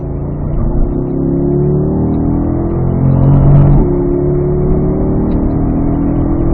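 A car accelerating on the Spring Mountain North Course race track, its engine droning loud and steady with rising harmonics as the revs climb, heard from close by with no talk.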